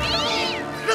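A cartoon cat meows loudly and continuously with a wavering, high-pitched cry, clear and close, rising toward the end, with no speech over it.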